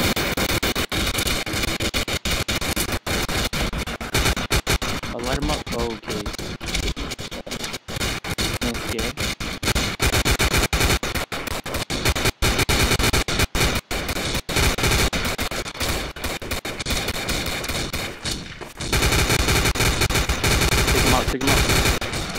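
Relentless automatic gunfire from a zombie shooter game, Codename Cure, dense overlapping bursts of rapid shots filling the whole stretch with only brief gaps, loud and close.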